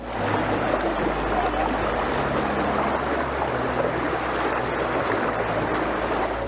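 Strong river current rushing steadily during a risky crossing by teachers in Masbate, a dense, continuous broadband roar of water with a low rumble, loud and unbroken throughout, no voices.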